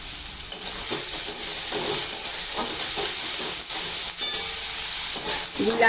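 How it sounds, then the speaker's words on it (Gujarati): Onions fry in a small amount of oil with salt for a green chickpea curry, a loud continuous sizzle and hiss broken by the scrape of stirring, with no voices. "ગુલાબી ડુંગળી થાય ત્યાં સુધી આપણે તેને ઓછા તેલમાં શેકવાની છે।"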